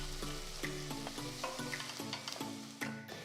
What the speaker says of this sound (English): Once the onions are transparent, add 2 large green chillies,